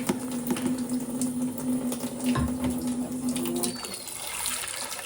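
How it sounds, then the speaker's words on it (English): Water pours steadily into a cooking pot of peas for Jamaican stew peas, a close, continuous splashing stream that runs for about four seconds before stopping. "enough water to cover the peas"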